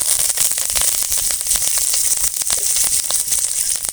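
Mustard seeds, shallots, dried red chilies and curry leaves tempering in hot oil: a loud, steady, dense sizzle with scattered crackling pops, close up and with no talk.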